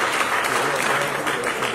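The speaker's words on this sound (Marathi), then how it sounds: "एकदा जोरदार टाळ्या व्हायला पाहिजे" An audience claps steadily at a Marathi movie music and trailer launch, a dense, even wash of applause for nearly two seconds with faint voices mixed in.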